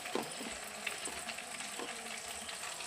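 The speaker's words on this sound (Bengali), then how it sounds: "পেঁয়াজ ভাজতে ভাজতে টমেটো দিয়ে দিলাম" Onions and tomato fry in a pan with a soft continuous sizzle, punctuated by a few light clinks and scrapes of stirring, quiet and close, no one speaking.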